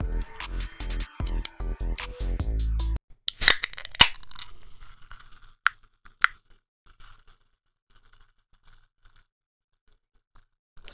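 A sharp hiss and crackle as a Blue Sky Cream Soda bottle cap is twisted open after some rhythmic thumping, then faint fizzing pops in near silence.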